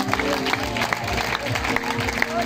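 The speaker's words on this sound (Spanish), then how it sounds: "Apláudale con vida ese Dios" Pentecostal church congregation clapping in praise, rapid dense claps mixed with voices and music, loud and continuous for a couple of seconds.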